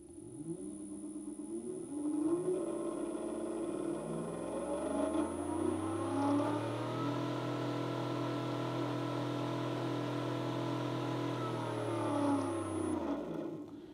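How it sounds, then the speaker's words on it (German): Haswing Ventura brushless gearless electric outboard running dry out of the water: a clear electric whine with steady tones that rise as it spins up, hold, then fall away as it stops. "sobald ich den Motor anschalte, habe ich einen deutlich wahrnehmbaren Ton."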